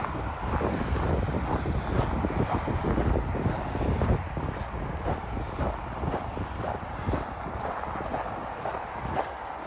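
Cold winter wind buffets the microphone on a January walk in Regina, a continuous loud, rumbling roar with gusty swells and no voices.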